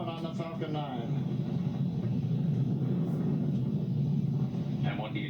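A SpaceX Falcon 9 rocket in supersonic ascent gives a continuous deep, rumbling roar, heard under radio voices.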